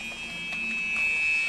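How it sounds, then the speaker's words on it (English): Internal alarm blaring inside a store at an emergency exit, a steady high electronic tone held throughout at moderate loudness, with muffled background commotion underneath. "as an internal alarm blared"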